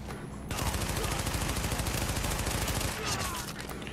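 Sustained automatic gunfire from the video game The Division, dense rapid bursts filling the scene loudly and nearly without pause, with a brief lull near the end before more shots.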